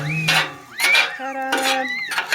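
Hibachi fried rice being mixed in a pan, with metal utensils scraping and clinking against the cookware in a few close, bright bursts and a short chime-like ring partway through.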